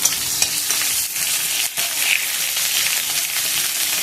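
Chopped onion sizzles loudly in a pan for a prawn, potato and pointed gourd curry, a dense hiss broken by a few spatula stirs and scrapes.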